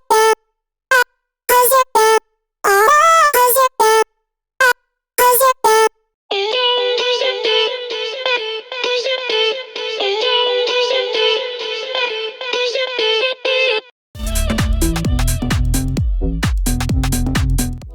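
A UK garage melody built from short, chopped vocal snippets with quick fades, playing as a bright stuttering synth-vocal line, then shifting into a denser phrase joined by deep bass hits toward the end.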